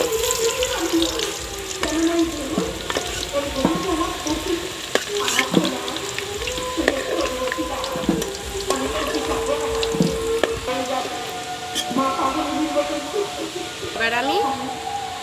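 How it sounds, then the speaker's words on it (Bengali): Potatoes frying in a pan for a home-style Bengali mutton curry, a steady sizzle with clinks and stirring scrapes throughout, close and fairly loud, with a tap's running water heard faintly at times. "আলুটা ভাজা হয়ে গেছে, এবার আমি আলুটা তুলে নেব।"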